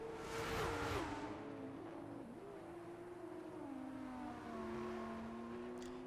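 Race car engine in a motorsport racing game, Abu Dhabi circuit, sustained droning whine shifting pitch as it holds speed, with a brief whoosh near the start and steady loud level throughout; no voices.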